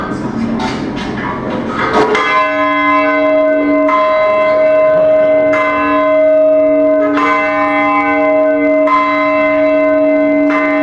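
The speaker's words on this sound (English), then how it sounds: "probably gonna ring the bell" A large bell is rung several times, each strike giving a loud clang followed by a long sustained ringing hum, with irregular strikes, and some faint knocking and voices at the start.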